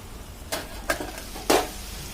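Spoon scraping through a pan of gokarakaya curry in three short, soft strokes against a faint background sizzle, close and alone with no talk.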